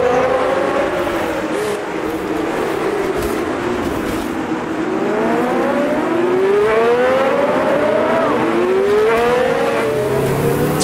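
Vintage race cars in a racing sim game roar continuously with rising and falling engine pitch through gear changes, loud and steady, with no clear crash impact standing out.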